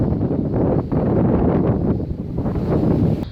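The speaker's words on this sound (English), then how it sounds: "Bloody windy up here, sorry if you can't hear me very well." Strong, continuous wind roars and buffets against the microphone on the 800-metre summit of Mount Hickey, Tallarook State Park, a loud low rumble gusting throughout with no other sounds.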